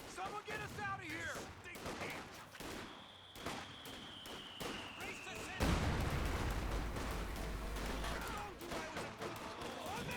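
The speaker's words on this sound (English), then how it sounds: "Oh, pretty good mortar hit right there." Mortar and grenade blasts in the World War II strategy game Company of Heroes 2, with scattered bursts of gunfire and a heavy boom midway that rumbles on, while in-game soldier voices shout over the battle.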